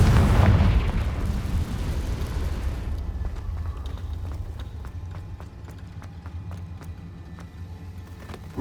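A Confringo blasting spell explodes in Hogwarts Legacy with a loud, broad blast right at the start that rumbles and fades over about three seconds, leaving a low ambient drone with faint scattered ticks.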